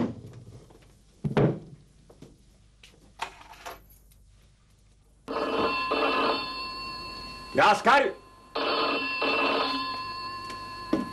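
An old-style telephone bell rings in loud bursts indoors, with scattered speech and movement noises before and between the rings.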